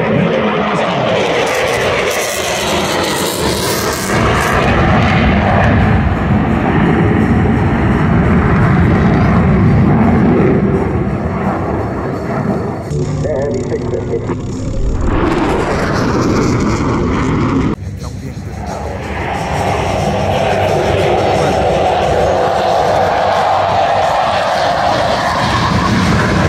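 An F-18 fighter jet flies past at an air base airshow in Virginia, a loud, sustained engine roar that swells, briefly drops away, then surges again as the aircraft passes close, with faint voices in the crowd.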